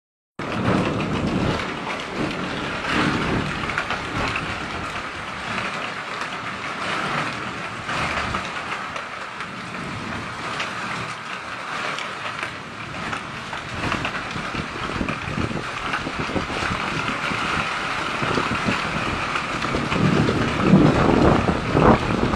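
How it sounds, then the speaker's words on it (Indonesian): A hailstorm driven by strong wind in Chukai, Malaysia: a roaring, rushing wash of wind and pelting hail that stays loud and steady throughout, swelling slightly toward the end. "Dia bagi hujan batu."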